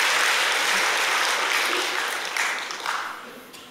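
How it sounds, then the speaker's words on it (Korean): A church congregation applauds during a Korean sermon, broad clapping filling the space loudly at first and then tapering off over a few seconds, with a hint of voices as it fades. "1부 때는 박수를 치던데요."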